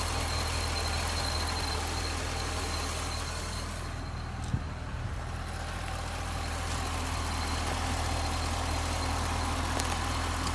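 A 2008 Corvette C6 4LT with 20,000 miles idles with the hood open, a steady low engine hum and fan wash continuing evenly throughout, with no talking.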